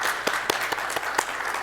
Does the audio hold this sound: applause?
yes